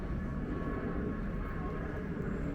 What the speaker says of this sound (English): we've got a plane taking off as well